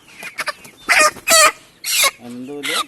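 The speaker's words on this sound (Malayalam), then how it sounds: "ഇത് പാളക്കാട്ട നാടൻ കോഴി" Native black chickens (Kadaknath) cluck close by in short, sharp bursts, then a rooster gives a drawn-out crow at the end.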